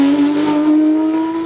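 A Porsche 997 GT3 Cup race car at the Bagnols-Sabran mountain hill climb holds a loud, close, steady engine note with a strong sustained tone throughout, no voices.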